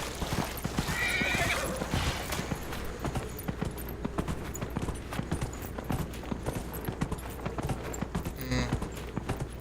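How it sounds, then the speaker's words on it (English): In the video game Dragon Age: Inquisition, a horse whinnies loudly near the start, then steady clip-clopping hooves continue at a walking rhythm, with a brief neigh again near the end. "It's another day riding my horse."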